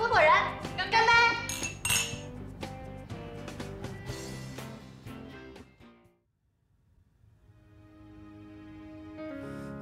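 Glasses clinking together in a celebratory toast between business partners: a few bright, ringing clinks over light background music in a home drama scene, fading out before a soft musical passage resumes.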